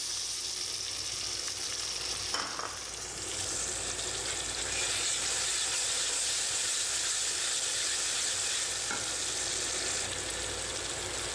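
Continuous sizzling and hissing from a hot pan of browned onions with ginger garlic paste and green chillies, with a couple of brief stirring scrapes and occasional bursts of steam; no voices.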